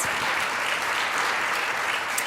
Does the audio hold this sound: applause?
yes